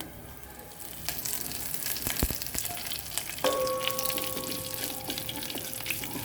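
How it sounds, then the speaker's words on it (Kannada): Broken Guntur dry chillies and curry leaves sizzle in hot oil as tempering for a raw mango saaru, a steady close hiss throughout, joined partway by a thin sustained tone. "ಮತ್ತು ಕರಿಬೇವಿನ ಸೊಪ್ಪು 1 ಕಡ್ಡಿ ಮುರಿದು ಹಾಕ್ಕೊಳ್ತಾ ಇದ್ದೀನಿ ಒಗ್ಗರಣೆಗೆ"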